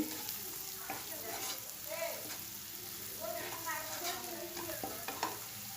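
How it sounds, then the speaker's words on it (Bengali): Onion, chili, salt and turmeric sizzle steadily in an oiled pan while a spatula stirs and scrapes in repeated strokes, close and moderately loud, for a simple okra fry. "এখন আবারও নেড়ে চেড়ে মিশিয়ে নিচ্ছি"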